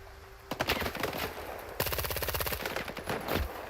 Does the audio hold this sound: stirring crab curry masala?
no